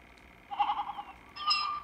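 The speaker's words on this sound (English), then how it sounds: "Hey, little Bo Peep, you lost your sheep" A sheep bleats in two drawn-out, wavering calls, the second higher and brighter, moderately close over a low background hum with no talking.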